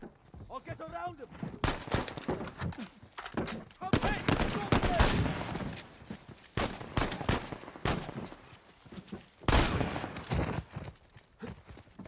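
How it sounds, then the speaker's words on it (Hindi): Shotgun and other gunfire in Uncharted 4: A Thief's End, loud, heavy blasts and bursts of rapid shots in irregular clusters, with someone talking over parts of the action. "शॉटगन का मुकाबला शॉटगन से।"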